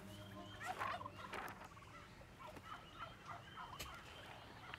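Hamburg chickens, an old German breed, clucking and calling in a busy, noisy chorus, with several birds close together and sharp squawks mixed in.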